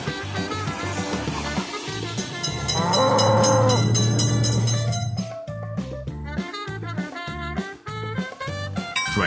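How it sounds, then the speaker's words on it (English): Train approaching and passing a railroad crossing in a mobile train simulator game, with a rising horn-like tone and rhythmic rail clatter over busy game music and effects, loud throughout. "Attention, train is coming."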